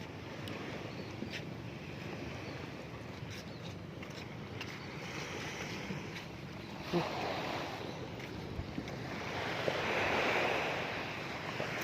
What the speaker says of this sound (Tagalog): Yung hampas ng alo na yan, masasabi mo na talagang nasa gilid ka ng dagat.